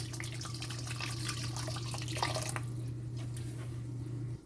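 A stream of boiling water runs and splashes into a bowl of seasoned chicken for a few seconds over a steady low hum, then trails off.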